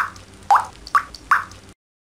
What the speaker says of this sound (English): The faucet is dripping.